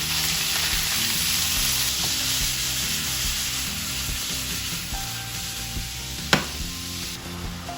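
Beef browns with golden garlic in a pan for a stir-fry with sweet pepper and onion, a steady hiss of sizzling with light scraping and one sharp clack near the end.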